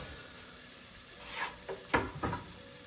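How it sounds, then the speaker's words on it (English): Minced fresh garlic hitting melted butter in a pan gives a soft, steady sizzle, with a few brighter bursts of crackle or stirring near the end; no one speaks. "Get our butter nice and melted. Going with some fresh minced garlic."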